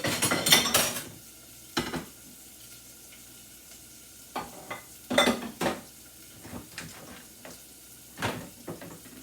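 Dishes, pots and pans clatter in a home kitchen during cooking, sharp metallic clinks and knocks coming in scattered bursts with quiet gaps, near and fairly loud.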